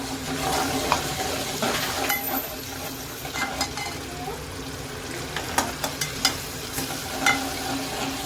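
Ginger garlic paste frying with browned onions in a pan sizzles steadily throughout, with repeated stirring scrapes and utensil clinks growing busier toward the end, and no voice.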